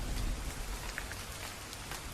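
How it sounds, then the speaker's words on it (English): Heavy rain pounds steadily on a roof as a dense, even hiss with scattered louder drops, close and continuous with no voices. "Rain pounding the roof, wind pushing against the windows."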